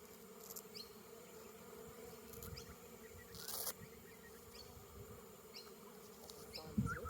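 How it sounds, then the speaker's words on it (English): Honey bees buzz around an open hive during an inspection, a steady close insect drone with individual bees passing near the microphone and occasional knocks of hive parts. "watch out for the bees"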